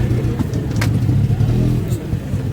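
An auto rickshaw engine revs up close in a continuous low, rattling drone, with some talking over the motor.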